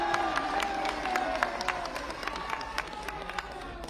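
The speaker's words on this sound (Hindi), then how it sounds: "मिला हो तो ताली बजाइएगा।" Outdoor political rally crowd in Pilibhit clapping and cheering in response to a speaker, a dense, sustained wash of applause with scattered sharper claps and voices mixed in.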